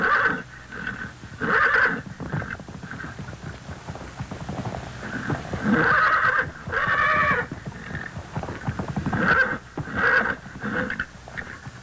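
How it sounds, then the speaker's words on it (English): A wild horse being fought by a cowboy neighs and whinnies loudly several times in bursts, with snorting and shuffling between calls, close to the listener. "fighting a wild horse"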